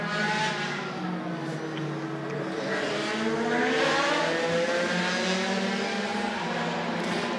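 A race car pulls out of the pits after refuelling with no tyre change, its engine note rising and revving through gears at moderate distance, steady and unaccompanied by talk.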